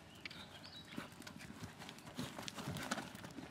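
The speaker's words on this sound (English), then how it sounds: "Diane, you need a pure canter" A horse canters through dressage work, its hoofbeats falling in an irregular drumming rhythm on the arena footing, with faint surrounding noise and a brief high call.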